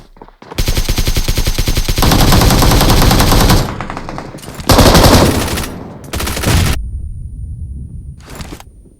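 Rapid automatic gunfire in the mobile battle-royale game BGMI, loud sustained bursts of shots followed by shorter volleys and a few isolated bangs, with no talk over them.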